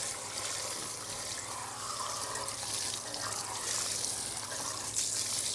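Hose spray rinsing a car wheel, a steady hissing wash of water splashing continuously and fairly close, with faint talk underneath.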